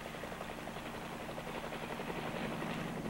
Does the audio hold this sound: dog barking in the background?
no